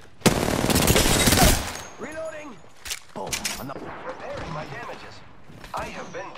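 Gunfire in the Apex Legends video game, a loud sustained burst of rapid automatic shots up close, followed by scattered single shots and game effects while a character's voice talks.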